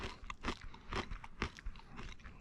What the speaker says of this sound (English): Dehydrated pineapple pieces with chili. So let's give these a try.